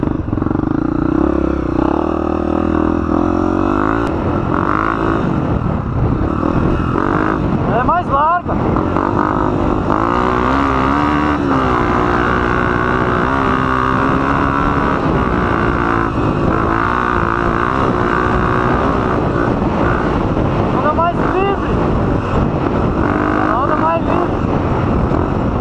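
A Suzuki DRZ dirt bike engine runs steadily during an off-road trail test ride, loud and continuous with revving shifts and wind buffeting the microphone.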